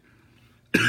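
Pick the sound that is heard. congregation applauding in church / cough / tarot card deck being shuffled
cough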